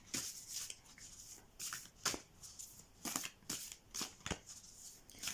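Oracle cards are shuffled by hand in a quiet room, a series of soft, crisp riffling bursts repeating at an irregular rhythm, close and fairly faint, with no talking.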